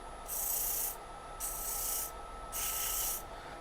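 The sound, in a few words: sanding a wooden muddler with 220 grit sandpaper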